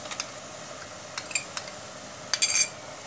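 Metal spoon clinking and scraping against a kadhai while ground red chilli, ginger and garlic paste is stirred into tomatoes for kadhai chicken, a few sharp taps over a soft steady background.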